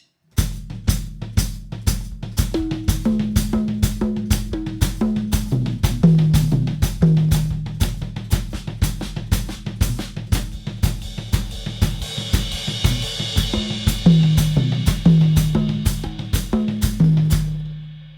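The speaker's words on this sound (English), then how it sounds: "I'll play the ands in the gap around the kit." Drum kit shuffle ostinato with the off-beat ands played around the toms, a steady stream of crisp close hits with a repeating low tom pattern, loud and alone without talk.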